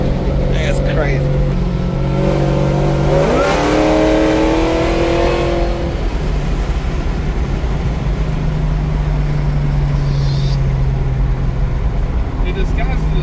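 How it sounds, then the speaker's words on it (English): A car roars through a high-speed tire burnout at about 90 to 100 mph. The engine revs up in a rising sweep, then settles into a loud, sustained drone with tire hiss. "This is a casual 90, 100 mile an hour burnout."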